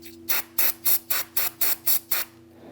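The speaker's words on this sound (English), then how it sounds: "Just going to use some brake parts cleaner." Brake parts cleaner sprays onto bolt threads during a front brake job on a 2007-2013 Mitsubishi Outlander: seven short, evenly spaced hissing bursts over a low steady hum.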